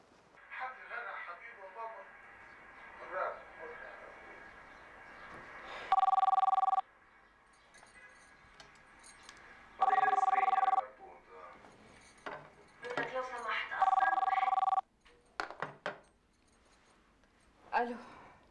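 A telephone rings in three loud, sharp electronic bursts spaced a few seconds apart, with indistinct talk and household clatter in between, in a domestic scene.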